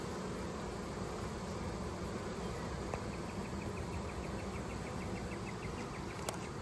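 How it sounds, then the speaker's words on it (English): A swarm of honey bees buzzes around a hive box outdoors, making a steady, dense drone that holds evenly from start to finish with no talking. "Trying to get those flying bees and all the other bees to come up here into the box."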